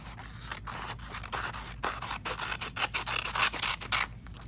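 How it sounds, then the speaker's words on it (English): Scissors snipping off an excess piece of paper during a craft project, a series of sharp crisp cuts with rustling and scraping between them, close and moderately quiet, no talking. "Then use scissors to cut off this extra piece."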